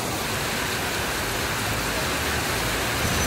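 Steady rain falls hard and continuously in Cambodia, a dense even hiss with no gaps throughout.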